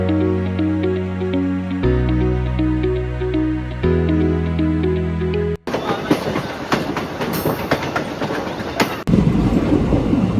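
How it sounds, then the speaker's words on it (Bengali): A passenger train departing Badarpur station rumbles along the tracks, starting with steady humming tones, then breaking into loud, continuous rolling noise with rhythmic clacks of wheels over rail joints, heard close from inside. "এখন জাস্ট ট্রেনটা ছাড়লো।"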